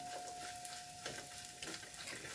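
Jackfruit frying and being stirred in a pan for a Kerala-style chakka payasam, giving a soft, steady sizzle with a few faint scraping stirs, quiet and close with no talking.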